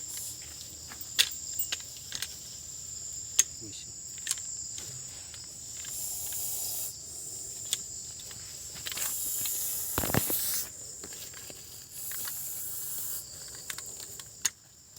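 A highly venomous snake in Lower Assam lets out short hissing bursts like a pressure cooker whistle, fairly faint amid chirping crickets, scattered clicks and light rustling.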